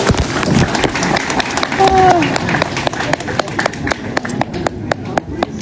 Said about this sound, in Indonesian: Tepuk tangan malih.